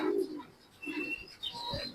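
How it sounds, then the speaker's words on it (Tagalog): Racing pigeons return to the loft, with soft, close cooing calls and a few chirps coming in short broken phrases over a quiet background. "So tingnan natin ito mga kalapatids."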